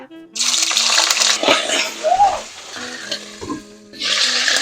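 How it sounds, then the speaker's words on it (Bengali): Frozen onion paste drops into hot oil in a kadai and bursts into loud, hissing sizzles that fade, then swell again near the end, with a faint voice underneath. "খুব ভালোই ফুটে উঠলো তেলটা একটু গরম হয়ে গেছিলো"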